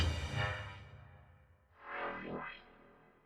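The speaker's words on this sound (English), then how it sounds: "These are just like sort of synth pulses that I layered together." Layered, pitched digital synth pulses from a sci-fi vehicle sound kit: a buzzy, distorted tone that fades, then two swooping pulses that bend in pitch, heard alone.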